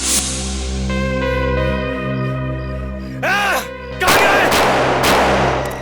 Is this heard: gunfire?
yes